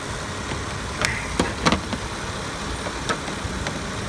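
A car's air conditioning compressor runs during a refrigerant top-off test, a steady, even mechanical hum and rush with a few brief clicks and knocks over it, and no voices.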